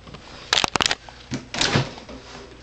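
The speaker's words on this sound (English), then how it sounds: "put him in the refrigerator now" A refrigerator door handled in a kitchen, a quick cluster of sharp knocks and rattles followed by a softer thud and shuffling, fairly close and quiet, with no talking.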